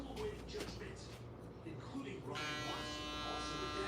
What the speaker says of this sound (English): find a trimmer that cuts close